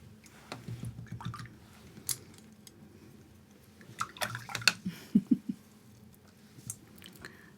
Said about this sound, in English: need to get all these brushes out of the water.